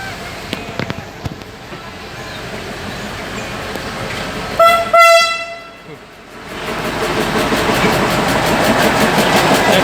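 A train horn sounds a short series of loud tolelot tones as a passenger train arrives at a station, followed by the rising rumble of the rolling train.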